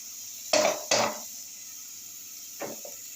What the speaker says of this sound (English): I'm going to stir inside to let my gojiet to cook very well.